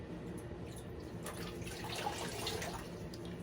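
Cold water splashes and trickles steadily into a bowl nearby, a soft continuous pouring sound with no voices.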